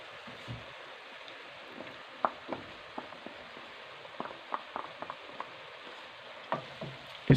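Macaroni being stirred in a pan with vinegar, soy sauce and chili sauce, a soft frying hiss under scattered scraping and clinking spoon taps, moderately close, with no talking.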